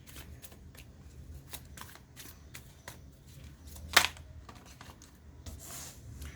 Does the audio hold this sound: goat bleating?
no